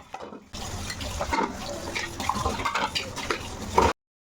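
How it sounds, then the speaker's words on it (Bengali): Dishes are rinsed under running water, a sudden gush of splashing water with light clinks of pots and utensils that lasts about three seconds, then stops abruptly. "আগে বাসনগুলো ধুয়ে নিই"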